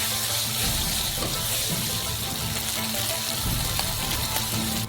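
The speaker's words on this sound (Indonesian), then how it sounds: "Pertama, goreng sedikit." Black beans and small chilies frying in a wok, a steady broadband hiss and crackle running continuously throughout with no talking.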